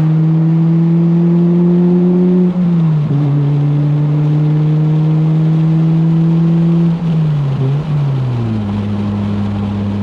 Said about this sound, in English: I can hear the exhaust echoing off the rocks.